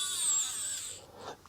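Small screws being driven into a Commodore 128D computer case with a power screwdriver, a short high-pitched motor whine lasting about a second, close and fairly quiet, then a faint click.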